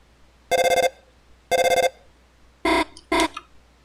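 Alarm from the Deltarune Spamton NEO fight: two identical buzzing electronic rings spaced about a second apart, then two shorter harsher blasts close together, loud and clear.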